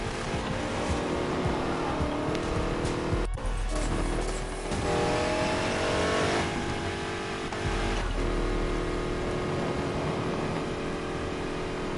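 A prototype race car in a PS4 racing sim played on a Logitech G29 wheel, engine roaring and revving continuously with shifting pitch and tire noise, loud and close throughout.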